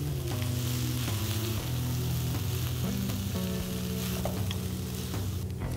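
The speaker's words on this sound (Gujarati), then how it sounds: "આ રીતે આપણે એને 2 ચમચાથી હલાવી લઈશું" Boiled hakka noodles, a Jain recipe, being stir-fried in a pan with two spoons: steady loud sizzling throughout, with repeated scraping and clinking of the spoons against the pan, no voices.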